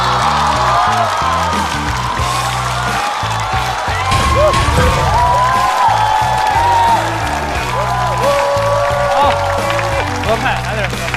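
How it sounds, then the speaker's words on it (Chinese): Audience applause and cheering fill the room at a stand-up comedy show, a steady roar of clapping with whoops mixed in and people talking over it. "掌声有请。"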